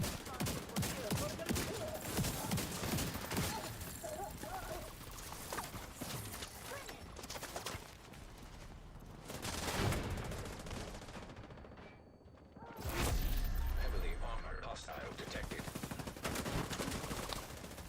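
Sustained rapid gunfire from a shooter game set in The Division 2, dense bursts of automatic fire filling the whole stretch with a brief lull near the middle before heavy shooting resumes.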